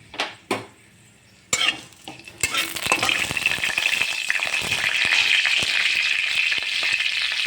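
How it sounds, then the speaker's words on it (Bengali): Mustard seeds and a dried red chilli hit hot oil, setting off a steady, loud sizzle and crackle that builds and holds after a few sharp clinks of a spoon against the pan. "তেলটা গরম হয়ে গেছে, এর মধ্যে অল্প করে সর্ষে একটা শুকনো লঙ্কা দিয়ে দিলাম।"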